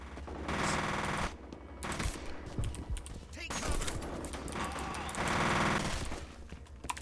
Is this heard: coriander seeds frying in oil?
no